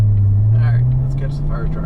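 A 2015 Corvette engine drones steadily and loud from inside the cabin, a low sustained rumble that rises slightly in pitch across the stretch, with faint voices chattering above it.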